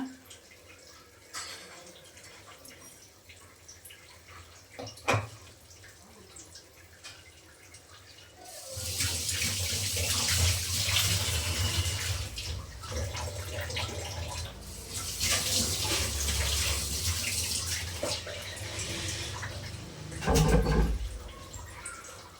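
A pot of chicken biryani liquid at a strong boil, a steady loud bubbling and rushing wash that starts abruptly partway through after a quieter stretch, with no talk over it.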